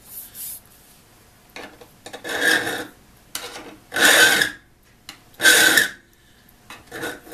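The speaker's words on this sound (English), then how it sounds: "I'm using a safe edge file" A safe edge file rasps across the blade of a spade drill bit in several separate strokes, each a close, bright, scraping pass with short pauses between them.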